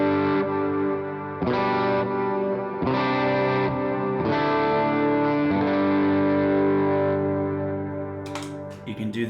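Electric guitar sustained chords and notes played through a worship pedalboard with dotted-eighth and quarter-note delay plus reverb, repeats trailing after each strum at a steady rhythmic pulse, full and upfront with no talking until a brief noise at the end.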